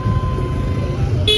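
Heavy road traffic on a crowded route approaching a temple town, a low steady rumble of engines with a car horn honking briefly at the end, close by.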